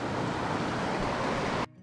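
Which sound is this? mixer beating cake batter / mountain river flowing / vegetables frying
mountain river flowing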